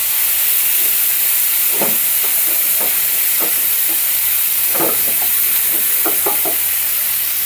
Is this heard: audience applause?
no